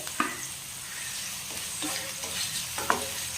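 Onions with green chilli and ginger-garlic paste fry in a pan for poha biryani, a steady close sizzle broken by a few sharp scrapes and clinks of a spoon stirring, no voices.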